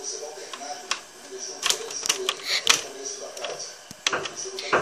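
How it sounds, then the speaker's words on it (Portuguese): Construction work at the neighbouring building next door comes through as a series of sharp knocks, clacks and rattling impacts at irregular intervals, fairly close and moderately loud, with people talking over it. "É o barulho do prédio do lado. Eles estão construindo."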